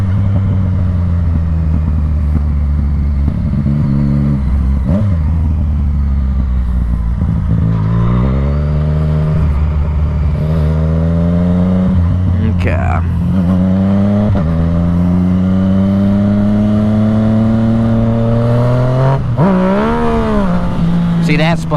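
A motorcycle engine revs repeatedly in rising and falling bursts while the rider pulls wheelies on a wet road in the rain, loud and close throughout.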